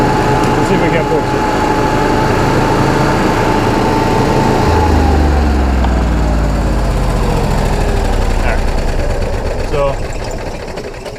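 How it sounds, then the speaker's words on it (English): An Onan generator engine with a code 14/15 fault runs loud and continuous close by, its pitch shifting as it is sped up, with a voice talking over it. "I just had to give it a little more gas and speed the engine up a little more"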